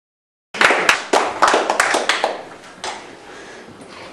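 An audience on one side of a room breaks into clapping after a brief silence, a cluster of sharp, close hand claps that thins out into scattered claps and fades over a few seconds.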